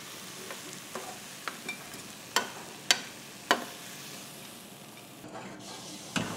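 Meat sautéing in oil sizzles steadily and close by, with sharp spatula taps and scrapes against the pan punctuating the continuous hiss.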